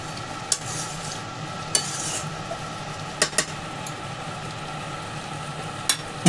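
Lemon chicken with ground coriander and cumin being stirred in a pan, a steady quiet scraping over a low sizzle, with a few sharp clinks of the spoon against the pan and no voices.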